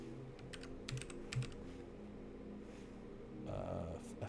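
Computer keyboard typing in quick clusters of light clicks, close by, with a brief louder burst of rustling noise near the end.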